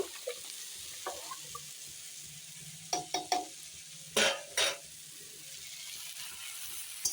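Leafy greens stirred in a pan with a bowl of water added, giving a low steady simmer broken by several sharp scraping strokes of the spoon against the pan, close and alone.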